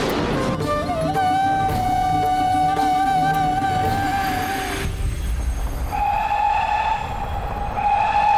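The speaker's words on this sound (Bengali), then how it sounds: "ট্রেন এসে গেছে, জানি উঠে পড়ুন।" A train pulling into a station, with loud squealing wheels holding long high tones over the rumble of the cars, steady and close throughout.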